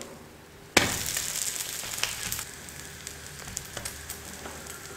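A chapati is flipped onto a hot pan with a sudden loud hiss, and the sizzle stays steady and close, fading slightly as it toasts, with a few small crackles and taps.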